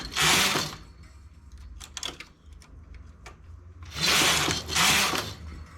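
Knitting machine carriage sliding across the needle bed while working a delicate eyelet-style finishing edge, two loud rasping sweeps near the start and two more near the end, with soft clicks and handling in between and no talk.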